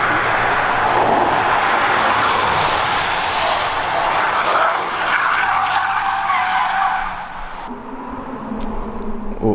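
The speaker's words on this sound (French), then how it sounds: "Oh, en drift." A supercar drifts on a mountain road at Chamrousse, its tires skidding in a loud, sustained screech that blends with engine roar before easing toward the end as the sound fades.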